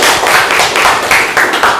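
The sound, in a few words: applause for a classmate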